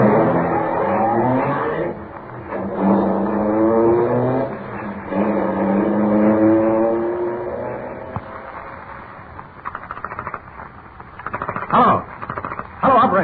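A car engine revs and pulls away, its pitch climbing and falling through gear changes before the motor recedes, followed by scattered clicks and knocks.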